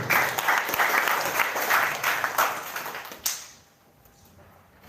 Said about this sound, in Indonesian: Kita tepuk tangan untuk itu.